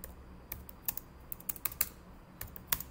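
Typing on a computer keyboard, about a dozen quick close key clicks in short irregular bursts over a quiet background.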